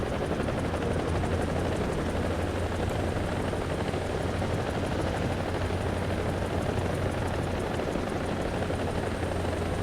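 A helicopter in War Thunder makes a steady, loud rotor drone with a low pulsing thrum and hiss that holds unbroken throughout, with no talking.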